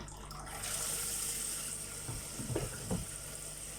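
Running tap water pours steadily into a sink as something is rinsed under it, a close hissing stream with a few splashes and knocks toward the end.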